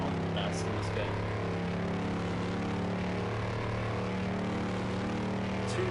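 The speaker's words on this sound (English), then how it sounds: "the engine sounds not the best in this game" A car engine in a car-building video game, a steady droning hum with a low harmonic buzz that holds at an even level throughout, with no pauses or bursts.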